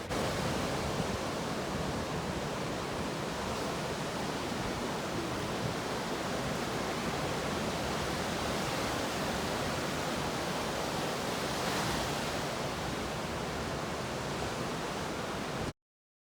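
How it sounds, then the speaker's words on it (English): Ocean waves wash onto the beach at Carpinteria, California, a loud, continuous broadband rush of surf with a gentle swell near the middle and no voices. "enjoy the beautiful sound of the ocean"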